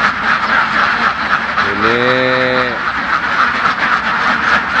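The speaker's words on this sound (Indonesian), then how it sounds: "Ini bebek mulai bertelur ya, baru mulai" A single drawn-out, honking quack from Umbaran laying ducks on a farm flock of about 2,500 birds that are just starting to lay, heard close under someone talking over a steady background of flock noise.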